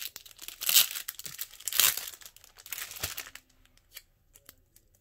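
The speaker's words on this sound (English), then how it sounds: "More pretty tissue paper." Tissue paper crinkles and rustles close up as a mailed package is unwrapped, several loud crumpling bursts in the first three seconds, then quieter scattered rustles and small taps as handling slows.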